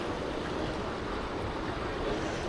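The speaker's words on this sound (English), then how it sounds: "This is the river we were just walking along." River water flows beside a village walk in England as a steady, even rush of broad noise, unbroken and fairly loud for the whole stretch, with no voices.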